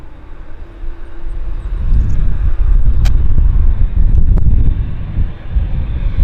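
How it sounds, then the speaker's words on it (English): A Japanese airliner taxis to its gate at Vancouver airport, its engines a loud, steady low rumble mixed with gusting wind noise, with no voices. "Always nice to see Japanese airliners in Vancouver."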